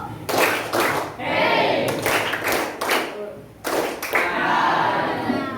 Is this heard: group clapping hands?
yes